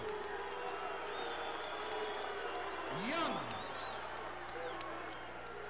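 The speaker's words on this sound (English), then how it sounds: "smattering of boos, mostly applause though" Arena crowd at a professional boxing match greets a fighter's introduction with steady, broad applause mixed with scattered boos, a continuous wash of clapping and voices rising slightly midway.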